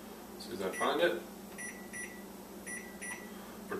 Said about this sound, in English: And I'm going to set a timer